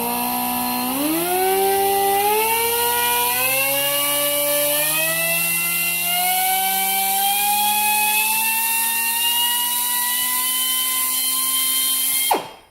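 Pneumatic double shears running, a high air-motor whine that spins up quickly, climbs steadily in pitch while held at throttle for about eleven seconds, then cuts off abruptly; loud and close, no talk.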